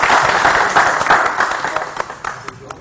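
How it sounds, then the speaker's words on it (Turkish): Audience applause for a teacher at a Turkish folk music gathering, a dense, steady patter of clapping that fades slightly toward the end, with a few sharper individual claps standing out. "Bir alkış Kadir hocam için."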